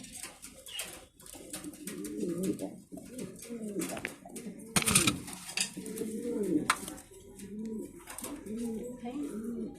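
Mundiya pigeons at a breeding farm coo in repeated soft, rolling phrases, fairly close, with faint clinks in the background.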